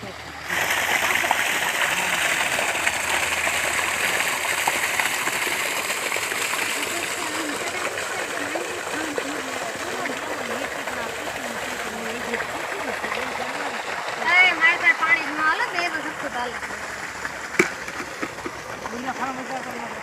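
Irrigation water runs in a steady gushing, splashing stream through a field of green garlic, heard close and continuous while people talk over it.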